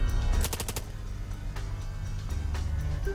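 A short burst of rapid video-game gunfire shooting an enemy's wing in Long Gone Days: a quick string of loud shots in the first second, followed by lower rumbling game sound.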